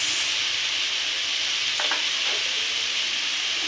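Fish curry with green chillies and Kashmiri chilli sizzles and fries steadily in a pan, a loud continuous hiss with a few faint scraping stirs partway through, close up and without talking.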